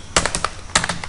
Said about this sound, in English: type the URL